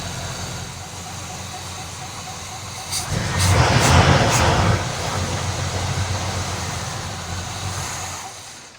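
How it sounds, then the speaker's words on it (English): A 1980 Camaro Z28 barn-find engine idling, then revved briefly for a couple of seconds with a swelling roar, settling back to a steady rumble with a rusty muffler, heard close. "Rev it. Just a little bit."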